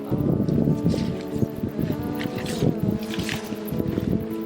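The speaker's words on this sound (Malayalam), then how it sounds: "കാറ്റ് കണ്ടോ, കാറ്റ്." Gusty wind buffets the microphone in uneven rumbling bursts at a tent campsite in Laza village, with a steady mechanical hum underneath.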